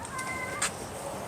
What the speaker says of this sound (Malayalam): ഒരു കിറ്റനും അമ്മ പൂച്ചയുണ്ട്